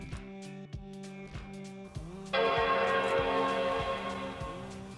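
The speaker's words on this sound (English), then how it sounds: "you should hear a second Apple chime" A second Apple Mac startup chime during an NVRAM/PRAM reset, a loud sustained bright tone sounding about halfway through and ringing on, following a softer bell-like tone with repeated low pulses underneath.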